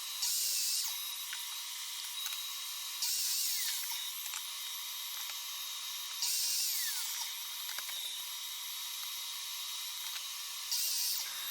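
A saw cuts pieces of wood for a table saw workbench with a high, whining buzz that runs steadily. Brief louder bursts come every few seconds as each cut goes through. The sound stays close and even, with no talk.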